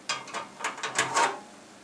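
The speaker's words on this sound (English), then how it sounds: "this little hard drive cage here is removable by screwing out 2 screws here" Screws are backed out of a removable hard drive cage in a CM Storm Enforcer PC case, giving a short run of soft, close ratcheting clicks in quick uneven bursts.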